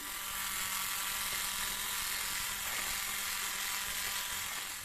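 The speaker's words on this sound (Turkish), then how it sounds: "Ve 1-2 dakika çırpmaya başlıyorum." An electric mixer whisks cake cream mixed with cold milk, giving a continuous, even high-pitched whir that stays steady and faint throughout, with no talk.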